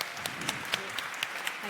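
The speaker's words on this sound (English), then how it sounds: "So a big round of applause for our esteemed panelists." Applause from an audience for panelists at a World Bank Pakistan event, a steady patter of many hands heard at a distance, fairly faint, with some room noise.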